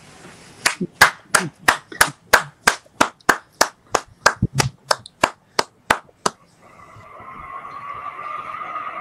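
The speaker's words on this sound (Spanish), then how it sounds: "Si le pudiéramos dar un fuerte aplauso, Yair." Applause from a studio audience welcoming a guest at an interview, about twenty sharp, evenly spaced claps standing out clearly, then giving way to a softer, steady wash of clapping toward the end.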